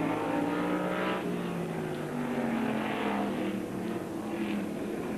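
Open-wheel race cars from the 1972 Tasman Series at Adelaide, engines droning at a moderate distance with shifting pitch as they circulate, a steady layered roar without a distinct single pass.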